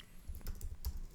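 Rapid clicking keystrokes on a computer keyboard while typing text into Figma, a brief run of close, crisp taps over a quiet room.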